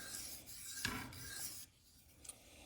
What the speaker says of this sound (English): Just doing those edge aligning passes. Just align up those scratch patterns.